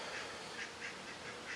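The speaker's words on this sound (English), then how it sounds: "now there's ducks coming over to eat my rod" Ducks swim toward a carp-fishing rod at a lake, making soft, fairly distant quacks that repeat in a loose rhythm over steady outdoor background noise.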